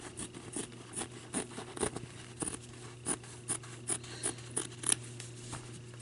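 Scissors cut through fabric while a corduroy teddy bear Christmas ornament with soft chenille trim is trimmed out, making repeated close, crisp snips in an uneven rhythm of roughly a dozen cuts, with no voices.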